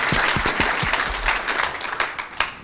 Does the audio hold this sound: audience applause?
yes